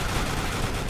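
Dense, continuous gunfire from a Roblox SCP game, a steady rattling barrage that stays loud throughout with no pauses or voices.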